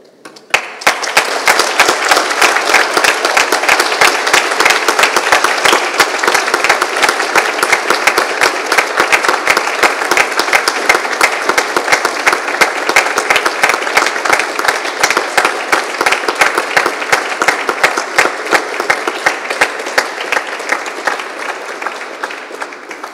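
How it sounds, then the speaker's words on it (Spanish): Loud, dense applause from a graduation ceremony audience thanking their families, a steady roar of many hands clapping that holds evenly for over twenty seconds before thinning slightly at the end. "darles un aplauso gigante a sus familiares en señal de gratitud"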